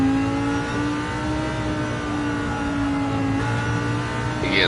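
A Lamborghini engine roars steadily through a race at Suzuka in a racing video game, holding a sustained high-revving drone with a slight pitch dip near the end, loud and close with no talk over it.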